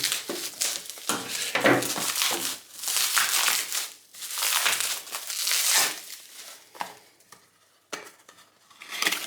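Packaging from an opened cargo parcel crinkles and rustles in close, irregular bursts of crumpling for about nine seconds, easing into quieter scattered crackles near the end.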